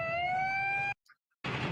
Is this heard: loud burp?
no